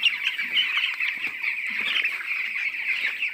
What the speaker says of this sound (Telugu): చూడండి ఎలా ఉన్నాయో కోడి పిల్లలు